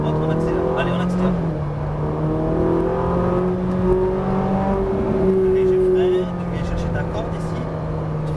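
A Ferrari 458 Italia accelerates on a racetrack, its engine note rising steadily and holding strong and close throughout, with an instructor's voice speaking over it.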